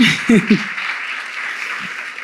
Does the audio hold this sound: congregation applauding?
yes